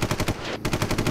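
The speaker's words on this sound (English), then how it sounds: "Where'd the bear get a machine gun?" Machine gun firing a rapid burst of evenly spaced shots, loud and close, with one brief gap in the middle of the string.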